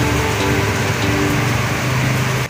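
Rain falls steadily at a roadside stall, a dense close hiss of drops on surfaces with a faint engine hum underneath, unbroken until the very end.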